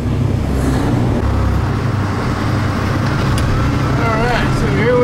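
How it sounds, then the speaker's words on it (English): Traffic jam in Charleston, South Carolina, a dense, continuous roar of idling and creeping road vehicles heard close and loud, with a voice talking over it. "And got this traffic jam going on"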